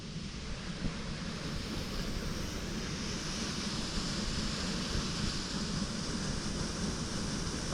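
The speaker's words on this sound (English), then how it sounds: "This is the kind of waterfall I want to hang out in." Steady, continuous roar of rushing water from a waterfall in Jasper National Park, heard up close, broad and unbroken with no voices over it.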